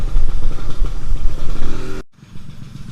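Original 1995 Yamaha RXZ two-stroke motorcycle running on its stock exhaust, a loud close burbling idle with rapid pulses that cuts off abruptly, then resumes more quietly.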